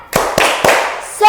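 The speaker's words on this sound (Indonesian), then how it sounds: "Tepuk semangat." Schoolchildren in a classroom do a rhythmic spirit clap: three sharp, loud claps spaced evenly, followed by voices chanting together at the end.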